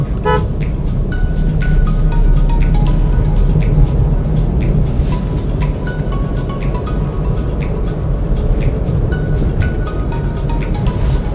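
A Maruti Celerio with an automated manual transmission driving along, its engine drone steady and loud inside the cabin while the AMT module shifts up through the gears, with faint chirps and tones scattered over the continuous road noise.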